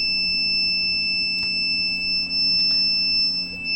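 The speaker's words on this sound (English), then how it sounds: "buzzer 2 is started" An Arduino-driven electronic buzzer alarm emits a steady, piercing high-pitched tone, continuous and loud, with faint clicks and a low hum underneath.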